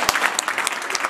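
A brief, dense burst of crowd applause at a fundraising event, steady, close clapping from many hands with no break.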